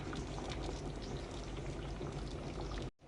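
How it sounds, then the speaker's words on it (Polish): Pea soup with potatoes bubbles steadily in a pot, a continuous dense simmering hiss and gurgle that cuts off abruptly near the end. "No nasza zupa gotowa wygląda tak, jeszcze się gotuje."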